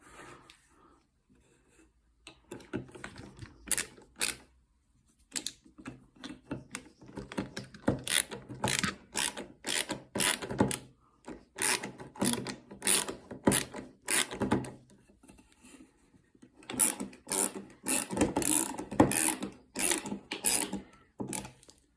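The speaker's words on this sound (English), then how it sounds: "I need to screw it on this side" A screwdriver drives screws into the wooden joints of a homemade nesting box, giving repeated ratcheting, grinding bursts close up with short pauses between turns.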